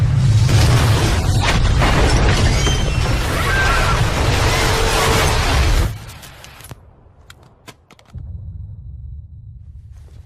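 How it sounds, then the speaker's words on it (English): A massive explosion in an animated superhero film, a loud sustained roar of blast and crashing debris that abruptly drops away into near silence before a low rumble returns. "indicate a massive explosion in a residential neighborhood"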